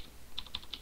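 Keystrokes on a computer keyboard while entering code, a few soft separate clicks spaced unevenly over a quiet background.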